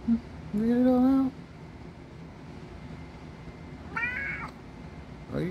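A cat meows twice, a long rising yowl then a shorter one a few seconds later, over a steady low background hum.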